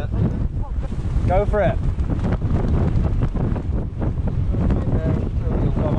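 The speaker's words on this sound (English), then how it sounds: "It's definitely gone woo on the wind factor." Strong wind roars across the microphone on an exposed hill in the Peak District during a group mountain bike ride, a loud, constant buffeting rumble as riders briefly talk over it.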